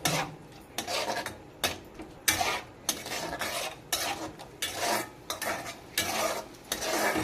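A spoon scrapes and clanks rhythmically against a metal pot while spices are stirred for bhuna khichuri, each stroke a short scratchy burst repeating about once a second, close and fairly quiet.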